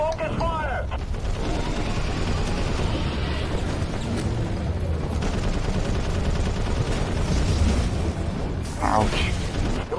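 Soldiers fire rapid, sustained gunfire in the video game Prototype 2, with mechanical clatter and explosions, while voices shout over the continuous battle noise.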